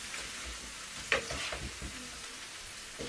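Vegetables are stirred in a hot pan with soft scraping strokes over a low sizzle, a few distinct scrapes close by, with no talking.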